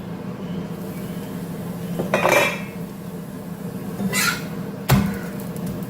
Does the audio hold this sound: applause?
no